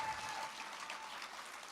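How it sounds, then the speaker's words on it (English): Crowd at an America First political rally in Arizona applauds, a quiet, distant wash of clapping lasting under two seconds. "Round of applause for Justin Harris."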